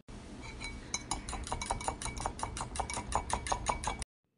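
Spoon clinking rapidly against a glass while stirring sugar into bael fruit sharbat, a quick, even run of bright taps for about four seconds, then silence.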